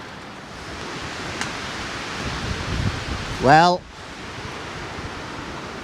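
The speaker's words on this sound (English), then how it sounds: "It is so windy, it's unbelievable." Strong wind roars through trees as a steady broadband rush, with a short spoken word cutting in near the end.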